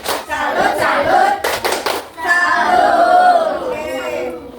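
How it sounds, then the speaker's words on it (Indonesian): A classroom group doing a rhythmic 'tepuk salut' clap chant during a training session, sharp bursts of hands clapping in time mixed with loud shouted chanting voices, then a sustained group cry. "Kita kasih tepuk salut."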